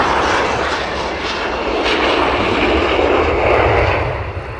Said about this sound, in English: I hope you're enjoying this video of the F-35's arrival.